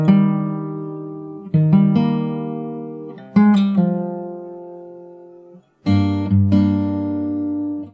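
Fingerstyle acoustic guitar plays a song: plucked bass notes with three strings picked together, in four sustained phrases of ringing chords, each struck cleanly and left to decay, close and alone.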